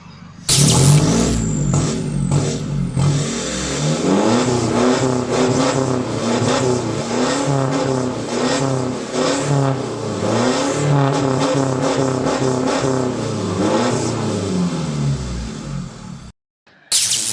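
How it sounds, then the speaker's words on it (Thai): A lowered four-door Isuzu pickup with a loud aftermarket exhaust revs repeatedly, rising and falling in a steady series of throaty bursts, then cuts off near the end. "เดี๋ยวเราไปฟังเสียงท่อกันบ้างนะครับเพราะว่าคันนี้ อ่าลูกค้าใส่ท่อนะครับป่ะฟังท่อเลยครับ"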